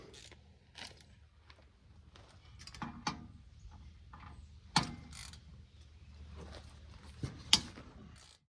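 A socket wrench ratchets on rear drum brake parts of a Ford Frontier, giving scattered clicking bursts and a few sharper metallic clanks, fairly close and quiet with no talk.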